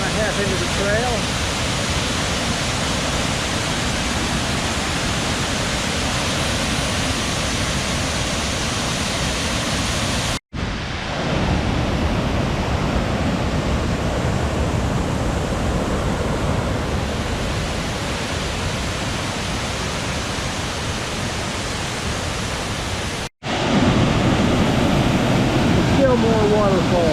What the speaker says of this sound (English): I never realized there's this many waterfalls here.